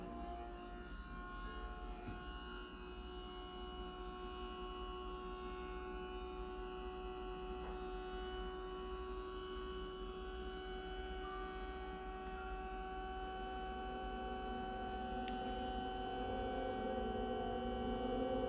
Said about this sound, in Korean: 저 기계 소리가 너무 거슬리네